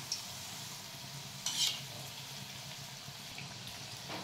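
Moong dal bhaji fry in hot oil over a low flame, a soft, steady sizzle and bubbling hiss that stays quiet and even throughout, with one brief brighter crackle partway through.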